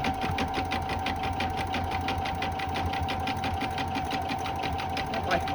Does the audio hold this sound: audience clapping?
no